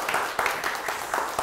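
Audience applause during a televised lecture on success, a short burst of clapping from a moderately sized crowd, steady and slightly distant in a hall.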